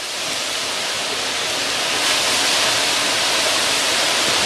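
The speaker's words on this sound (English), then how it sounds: "That could be a gust to hurricane force." Strong gusty wind from Tropical Storm Isaias on Long Island, a dense continuous roar with driving water spray that swells louder near the midpoint and stays intense, with no talking.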